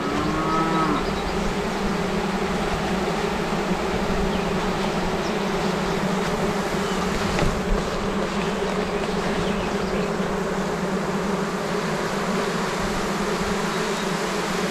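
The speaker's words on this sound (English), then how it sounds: "These bees sound like they're a bit ill." A colony of honeybees buzzing continuously, a dense, even drone that holds steady and close for the whole stretch, with no voices over it.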